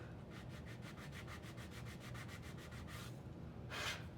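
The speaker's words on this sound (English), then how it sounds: "Do a little sanding." Quick back-and-forth hand sanding on a styrene model piece, about a dozen even strokes, then a pause and one longer stroke, close and quiet.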